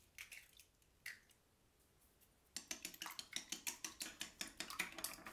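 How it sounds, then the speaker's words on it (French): Three eggs with a pinch of salt are beaten in a bowl: a few scattered clinks, then a brisk run of rapid, rhythmic whisking taps against the dish, close and clear. "Je bats 3 œufs avec une pincée de sel."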